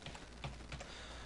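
Faint clicks of a computer keyboard as a search is typed in Windows 8, a few scattered keystrokes over a low background hiss with no talking.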